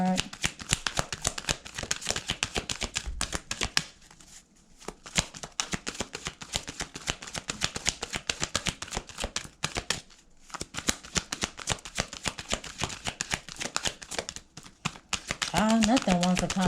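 Tarot cards shuffled during a reading, rapid riffling and slapping close by that goes on almost without a break. There are brief pauses, and a voice comes in near the end.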